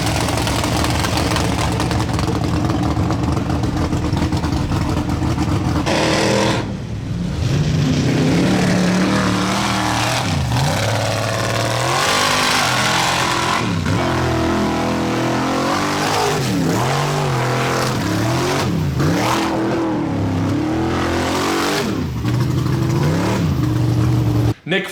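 A truck drives along a road, its engine droning loudly and steadily with repeated revving swells and gear changes, heard close up from inside the cab over the full stretch.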